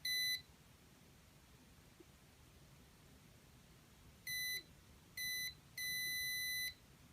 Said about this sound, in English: at about 5 inches, less than 5 inches, that's when the buzzer will go off